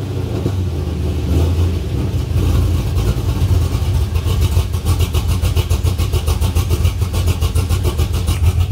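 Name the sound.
cammed Pontiac GTO LS2 6.0L V8 engine running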